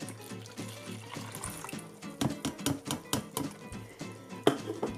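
Hot tap water pours into a container for a borax slime mix, a steady liquid rush broken by clinks and knocks from the vessel, fairly close and with no talking.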